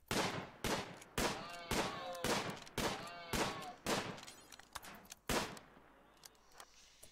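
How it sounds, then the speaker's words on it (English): Rapid bursts of gunfire aimed at alpacas in the video game Rimworld, about nine loud cracks in a steady volley that trails off toward the end. "We're gonna keep firing at alpacas until they die."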